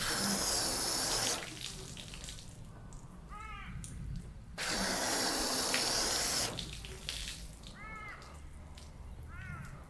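Rinse water runs and sheets off car paint sealed with Bowdens Own Wet Dreams sealant, a steady broad splashing hiss in two long bursts with quieter dripping and trickling between them; no one speaks.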